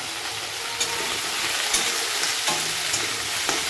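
Cauliflower, potatoes and chillies fry in a wok with a steady, close hiss of hot oil, broken by a few sharp clicks of stirring and no voices.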